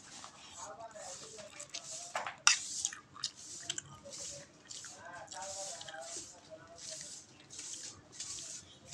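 Wet, squishy chewing of noodles on a quiet morning, repeated bites and slurps close to the microphone over steady low background noise, with brief soft speech.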